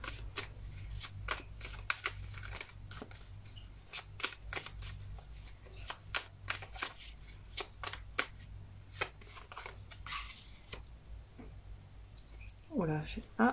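Tarot cards are shuffled by hand in a quiet room, giving a rapid run of crisp, close riffling clicks and slaps in irregular bursts, with a brief soft voice at the end.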